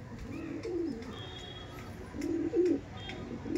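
Pigeon cooing in a kobutor loft, two soft low rolling coos with faint background chirps, fairly close and alone.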